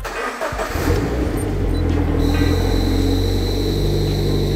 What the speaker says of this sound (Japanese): ちょっとね、オンにしてエンジンかけてみます。